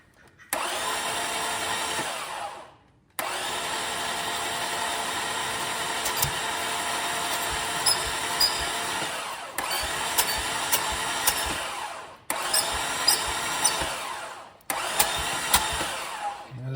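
A power tool whirs steadily and loudly while the valve cover comes off a 2005 Lexus ES330 engine, running in several long bursts with brief pauses and a few clicks between them.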